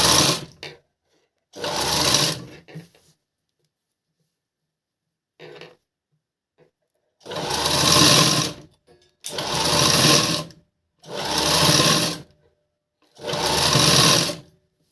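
A sewing machine stitches a blouse in short bursts of close, steady whirring, several runs separated by pauses as the fabric is turned at corners.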